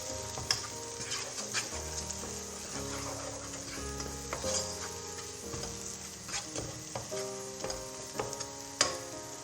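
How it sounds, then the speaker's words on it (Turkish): Eggs seasoned with black pepper sizzle steadily in a pan, set to be mixed with green beans, while a utensil stirs and scrapes with repeated ticking knocks, close and without talk. "Yumurtamı pişirene dek bu şekilde karıştırıyorum."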